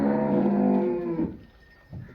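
A Cholistani Friesian cross cow gives one long, close moo that fades after about a second, followed by quiet with a faint low sound near the end.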